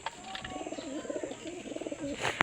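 Pigeons coo in a steady, wavering run of soft calls, close by and fairly quiet, ending with a brief sharper rustle.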